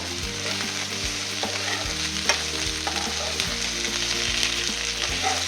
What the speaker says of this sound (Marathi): टोमॅटो, थोडंसं आलं, थोडंसं लसूण, सर्व एकत्र छान असं भाजवून घेऊया.